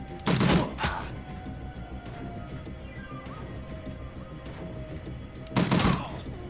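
Gunfire in the Shadowrun: Dragonfall video game comes as two loud, sharp bursts, one near the start and one near the end, with a quieter crack shortly after the first and low game ambience in between.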